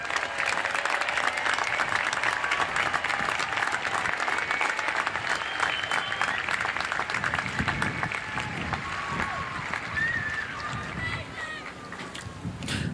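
An audience applauds graduating students at a high school commencement with sustained, dense clapping that fills the space and carries some wind noise and crowd murmur, tapering slightly near the end.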